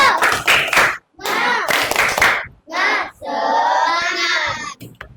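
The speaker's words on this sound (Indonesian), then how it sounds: "Coba tepuk semangat." A group in an Islamic religious education class does a rhythmic spirit clap, with loud chanting and shouting voices running through bursts of clapping and a long sustained chant near the end.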